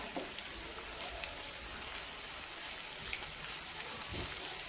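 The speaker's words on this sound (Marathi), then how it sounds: "मिरची पण ह्याच्यामध्ये टाकायची फ्राय करायला" Finely chopped green chilies sizzle in hot oil with golden-fried onions for a spinach dal, giving a steady, close crackling hiss with scattered pops.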